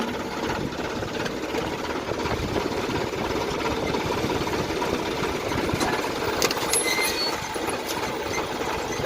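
A tractor loader's diesel engine drones steadily nearby as it pushes a tractor stuck in black soil, a continuous rough rumble with light knocking.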